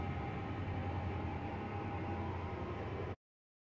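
A steady low rumble with a faint whine from a video game train holds for about three seconds and then cuts off abruptly as it pulls into a station platform.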